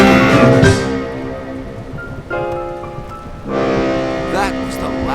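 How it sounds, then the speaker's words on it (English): A cartoon foghorn on a foggy coast blares in long, loud, low tonal blasts, sounding alone between pauses. "That's the foghorn. It blares automatically in a pattern, even when the flashing light's not visible."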